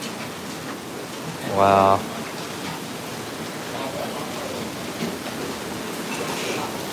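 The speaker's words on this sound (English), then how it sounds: "Man, the rain is crazy." Heavy rain pours steadily as a broad, even hiss during a street food outing in Katong and Joo Chiat, Singapore, with a brief loud tonal burst near the start and a voice exclaiming over it.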